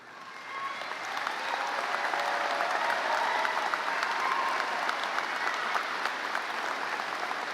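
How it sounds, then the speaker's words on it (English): A crowd at a 2022 high school graduation ceremony applauds for students as they stand, clapping that swells in after a second and holds at a steady, moderately distant level. "Please recognize these students with your applause as they stand."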